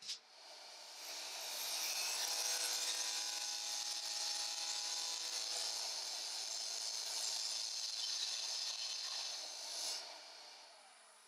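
A wooden fidget spinner body being rounded on a lathe makes a steady, bright scraping hiss of tool against spinning wood, lasting about nine seconds at close range, with no voices.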